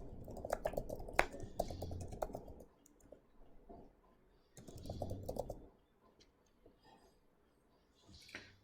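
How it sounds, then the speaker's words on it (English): Quick bursts of clicking keystrokes on a computer keyboard come close and fairly quiet, separated by pauses. "I'll type for that."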